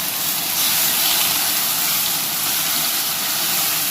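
Pointed gourd paste hitting hot oil in a pan gives a steady, bright sizzling hiss that holds evenly and close throughout.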